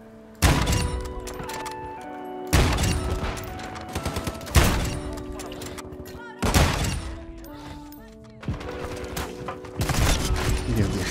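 Sniper rifle shots in an online shooter game, six loud sharp cracks spaced roughly two seconds apart, each with a ringing decay and faint game sounds between.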